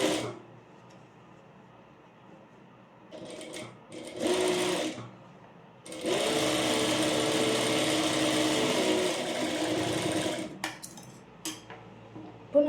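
A sewing machine stitches fabric in a tailoring class. Short bursts of its fast mechanical whirring come first, then one long steady run of stitching lasting several seconds, with quiet handling sounds in the pauses.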